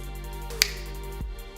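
A single sharp finger snap cracks out once near the middle, close and crisp against a quiet steady hum.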